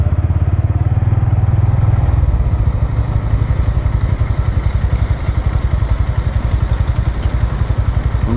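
A motorcycle engine runs steadily close by at an airport in Malang, a low throbbing pulse with a heavier burst at the start before it settles into an even idle-like chug, with no talk over it.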